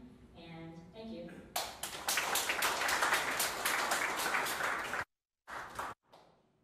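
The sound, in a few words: audience applause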